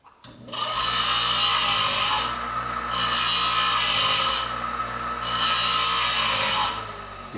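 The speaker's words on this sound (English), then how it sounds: "you just fire your blade up and you cut into grinding wheel a little bit, and then you push it kind of hard" Diamond saw blade cutting into a grinding wheel to dress it on lapidary cabochon equipment: a steady, close abrasive grinding rub with three longer surges where the blade is pushed harder, with no voices.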